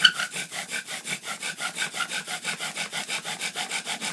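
A bow-driven friction fire drill spins in a deer antler and penny bearing block, producing a steady rhythmic rasping whir of wood on wood. Back-and-forth strokes repeat about five times per second, close and moderately loud, with no voices.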